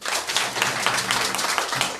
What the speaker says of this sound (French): Kona Kwaku Berté, applaudissez pour lui.